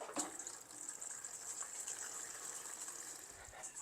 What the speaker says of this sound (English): and I'm going to go ahead and add water.